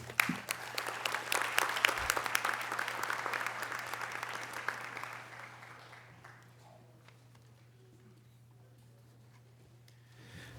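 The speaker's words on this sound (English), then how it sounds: "Please join me in applauding the excellent work of our Dean's List students" Applause for Dean's List students at an evening university ceremony, a steady wash of many hands clapping in a hall that fades out by about six seconds, leaving quiet room tone.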